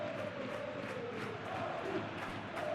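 A stadium crowd in the football game PES 2026 keeps up a steady roar of cheering, a dense continuous wash of voices at even loudness with no commentary over it.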